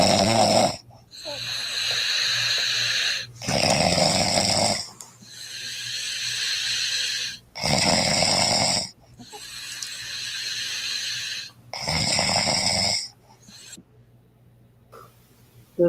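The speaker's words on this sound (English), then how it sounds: "My wife's snoring on our wedding night." A woman's loud, harsh snoring in long rasping breaths, about six of them at a steady pace with short quiet gaps between, close by.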